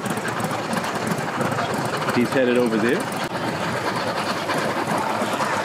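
A big boat's engine runs at a crowded boat ramp after being started, a steady mechanical drone that holds throughout while people talk over it.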